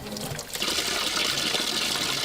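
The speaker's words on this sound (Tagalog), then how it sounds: "Pagbukas, bubulwakang maitim pa rin tubig" Black, dirty water gushes from a freshly opened faucet in a subdivision home, a loud, steady rushing splash that swells after a brief dip and holds continuously, with no talking.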